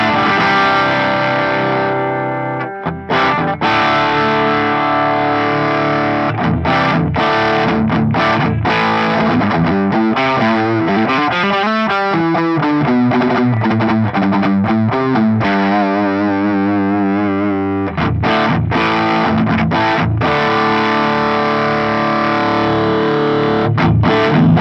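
Electric guitar played through a Fractal Audio Axe-Fx III boost overdrive, with a gritty, distorted tone and chords and riffs ringing out loud and steady, no voices.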